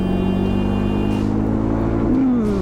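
A Jawa 42 Bobber motorcycle engine revs hard in third gear, a loud, close, steady exhaust drone that climbs in pitch as the bike accelerates.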